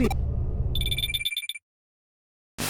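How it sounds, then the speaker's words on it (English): A phone in the video game Digimon Story Cyber Sleuth rings with a quick burst of bright, trilling electronic pulses. The ring comes in just after a low rumble of game sound stops and ends in a short silence. "Ring, ring, ring, phone call."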